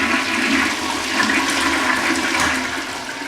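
A household toilet that is not fully working flushes with a loud, continuous rush and gurgle of water, close by and steady for several seconds with no talking.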